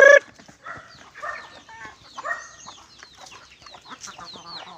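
Chickens and chicks on a backyard poultry farm clucking and peeping together, a dense chorus of short chirps and clucks with a loud call at the start, no talking.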